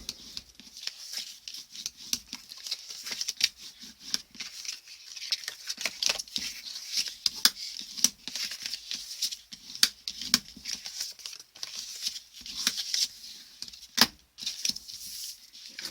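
Paper being folded along scored lines for a light-up Christmas lantern, soft close creasing and rustling with light taps and handling sounds, steady and quiet, with no speech.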